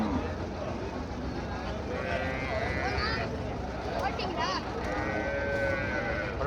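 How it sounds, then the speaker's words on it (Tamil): Water buffaloes at a livestock market low and moo amid constant crowd noise, with someone talking over them throughout. "இதெல்லாம் சந்தையில் விற்பனைக்கு இருக்கிற எருமைங்க."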